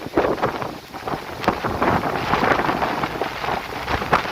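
Rain and gusting wind sweep across Chittar Dam 2 in Kerala, a rough, uneven roar with wind buffeting the microphone and swelling bursts of rainfall, with no voices.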